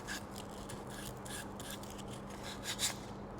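Sandpaper rubbed back and forth across the end grain of a wooden piece, a steady close rasping with soft repeated strokes over a low background hum.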